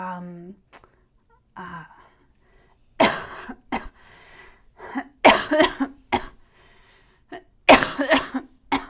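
Several sharp, loud coughs in bursts, separated by pauses, with a brief voiced sound near the start; close and dry.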